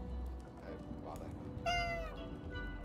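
A cat in the video game Death and Taxes gives a single clear, drawn-out meow partway through, over a faint hum from the game's background.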